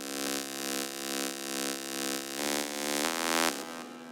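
A sustained buzzy synthesizer oscillator tone in a trance patch, with a slow pulsing swell and a few pitch steps near the end, heard alone and fairly loud.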